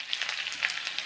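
Mustard seeds and onion frying in hot oil, a dense crackling sizzle with small popping bursts, close and steady for about a second with no talk.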